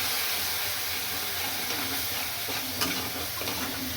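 Mustard paste and green chillies sizzle and hiss steadily in a hot frying pan, a soft, continuous crackle close by with a few faint stirring clinks.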